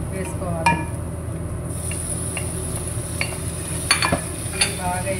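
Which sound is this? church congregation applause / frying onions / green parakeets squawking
frying onions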